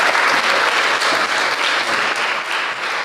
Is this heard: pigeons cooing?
no